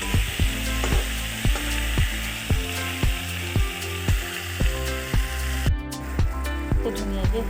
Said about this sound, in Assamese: অলপ দেৰি ভাজিব আনিব বিলাহী আৰু ফুলকবি আনি।